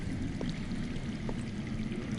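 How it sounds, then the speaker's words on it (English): Underground water in a PS4 video game, heard as a steady, full rushing flow like a hidden stream pouring through rock, continuous and fairly loud for the whole stretch with faint drips on top. "I hear water. From underground."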